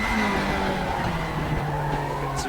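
Hard braking of a race car in the RaceRoom Racing Experience sim, a continuous engine drone with tire scrub and skidding noise running steadily throughout, fairly loud and close, with no talking.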